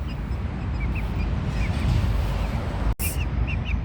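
Several small high-pitched peeps chirp intermittently over a steady low rumbling background, soft and fairly close.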